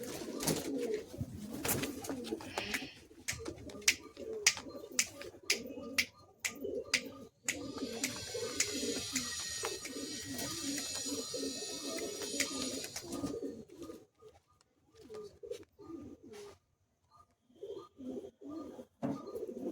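Madrasi pigeons cooing close by in a loft, giving repeated low throaty coos with a few sharper flapping or clattering bursts and a stretch of brighter chirping in between.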